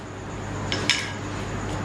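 A spoon scrapes and clinks against a dish while spreading a mixture, with two brief metallic taps over a quiet, steady background.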